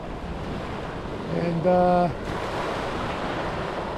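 Ocean waves wash onto a stony beach in a steady broadband rush, with a short spoken word rising briefly above the surf midway.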